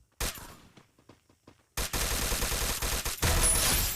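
Gunfire in a shooter video game, a few sharp single shots followed by loud sustained automatic bursts close up, with no talk.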